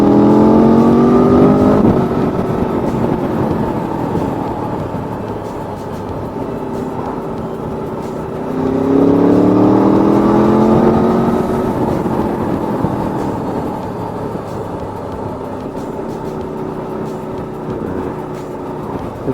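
Motorcycle on a rutted road accelerating past a lorry, engine pitch climbing in two distinct rising sweeps over a constant roar of traffic and wind, loud and close.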